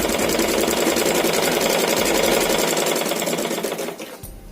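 Sewing machine stitching fabric during a tailoring lesson, a steady rapid mechanical whir with fast rhythmic needle ticking, loud and close, slowing and stopping near the end.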